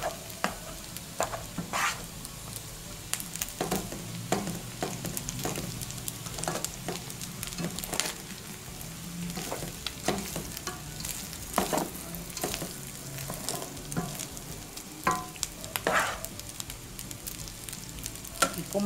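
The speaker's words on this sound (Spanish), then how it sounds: "freímos el arroz, para eso ya lo hemos cocido, para que se integre con su rico sabor y los ingredientes" Cooked rice stir-fried in a pan with vegetables and cold meats: a steady frying sizzle broken by repeated scraping and stirring strokes throughout, close and fairly loud, with no talking.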